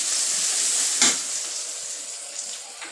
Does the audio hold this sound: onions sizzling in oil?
yes